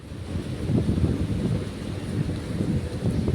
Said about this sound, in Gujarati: ફૂલ વરસાદ ચાલુ થઈ ગયો.